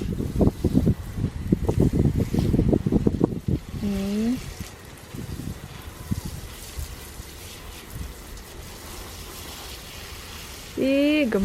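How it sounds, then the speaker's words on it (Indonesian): Cold wind gusting into the microphone outdoors in a garden where plants are being watered, a broadband rumble running through the clip, with speech loud at the start and a brief voice near the end. "Wow, ada angin dingin bos."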